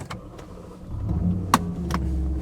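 A BMW E92 M3 with a newly rebuilt engine cranks and fires up, a low engine rumble rising and settling into a steady idle, broken by a couple of sharp clicks and whirs from the car's electrics.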